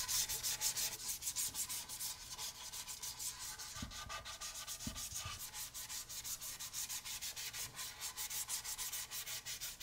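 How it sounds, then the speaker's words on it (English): Hook and loop sandpaper sanding a wooden guitar body during finish prep, a steady rhythmic rasping scrub with fast back-and-forth strokes, close and continuous, with a couple of brief knocks midway. "This time we're using hook and loop sandpaper."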